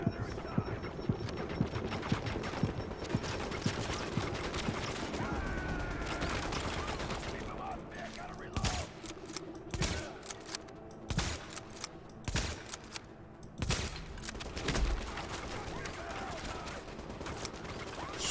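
Gunfire in The Division, a shooter set in New York: dense, continuous bursts of rifle fire at the start, then separate loud shots and short volleys, with voices speaking over the action.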